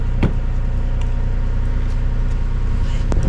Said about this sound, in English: Started my car to try and get this stuff moving